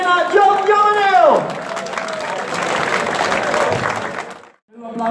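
Audience applause and cheering for the top three winners of a wheelchair criterium race in Delden, a dense crowd sound lasting several seconds over a loud voice at the start, then a short pause before a voice returns.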